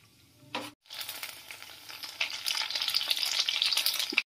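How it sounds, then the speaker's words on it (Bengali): Small dried fuchka (golgappa) chips drop into hot oil with a brief splash, then the oil bursts into a bright, bubbling sizzle that grows louder and busier up close. "কিছুটা তেল দিয়েছি, গরম হচ্ছে। চিপসগুলো দিয়ে দিচ্ছি।"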